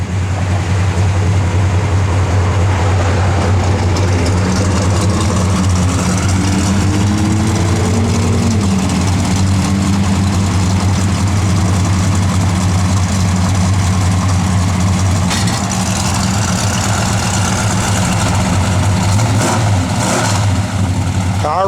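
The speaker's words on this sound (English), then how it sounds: "Car runs, guys. It will scoot." A 1969 Plymouth Road Runner convertible's V8 idles with a deep, steady, loping rumble, close and loud throughout, with occasional light revs while people talk nearby.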